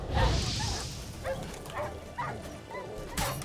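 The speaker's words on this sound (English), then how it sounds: "Let's kill some wild dogs." Wild dogs in the video game The Witcher 3 bark, yip and whimper in a series of short close calls spaced through the fight, with low combat thuds between them.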